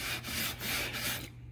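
A sanding block rubs back and forth along the sides of a wooden bass guitar fretboard, four close, rhythmic scratchy strokes with short gaps between them.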